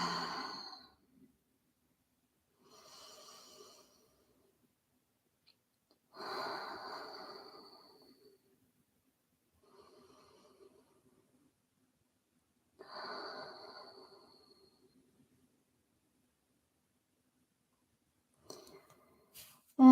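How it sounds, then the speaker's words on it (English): A person taking three slow, deep breaths during a relaxation exercise, each one an audible, breathy exhale or sigh separated by long quiet pauses, close and soft with no talking. "Taking another 3 deep breaths."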